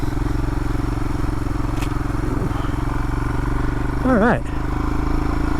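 A motorcycle rides along a road in late winter with fresh snow about, its engine droning steadily and evenly throughout, briefly swelling near the end, while a rider says a single short word.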